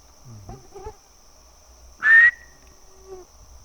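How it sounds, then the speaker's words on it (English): A person whistles a single short rising note outdoors at night, clear and fairly close, with a steady insect drone continuing underneath and a few faint low sounds around it. "I'm gonna whistle."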